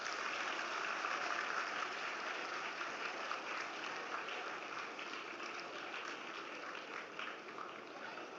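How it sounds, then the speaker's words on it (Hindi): Sustained, steady applause from an audience at the inaugural ceremony of the Gomti Book Festival at Lucknow University, a dense, even wash of clapping held at a constant level for the whole stretch without talk. "आप सभी से अनुरोध है कि तालियों के साथ उनका अभिनंदन करें।"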